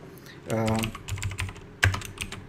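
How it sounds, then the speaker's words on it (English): A few quick keystrokes on a computer keyboard while a subject line is entered in a workflow tool, with a tonal hum and some background voice-like sound mixed in. "let me type in a subject"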